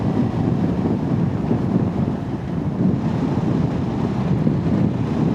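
Strong wind buffets the microphone in a steady, loud roar with no break, recorded outdoors beside a Kawasaki Z500 SE motorcycle in windy weather.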